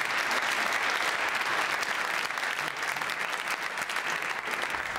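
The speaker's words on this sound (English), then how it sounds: "Yes, a round of applause." A burst of sustained audience applause, dense clapping from a crowd that holds steady throughout.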